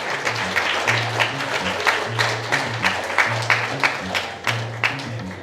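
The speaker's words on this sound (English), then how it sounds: "Round of applause for the best man, Carlos, and the maid of honor, Vanessa." Wedding guests at a reception applaud the best man and maid of honor with a steady patter of clapping from a small crowd, heard at a moderate distance.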